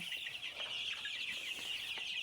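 Month-old Egyptian Fayoumi chickens on a small farm cluck softly and intermittently, faint and somewhat distant over a steady high hiss.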